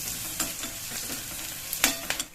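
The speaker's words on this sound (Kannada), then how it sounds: "ಸಾಸಿವೆ ಹಾಕೊಂಡಿರ್ತೀನಿ, ಜೀರಿಗೆ, ಕಟ್ ಮಾಡ್ಕೊಂಡಿರೋಂಥ ಈರುಳ್ಳಿ, ಇದನ್ನು ಚೆನ್ನಾಗಿ ಫ್ರೈ ಮಾಡ್ಕೊಂಡ್ಬಿಡಿ" Chopped onions frying in hot oil with mustard seeds and cumin, a continuous close sizzle broken by several sharp scraping stirs of a spoon against the pan.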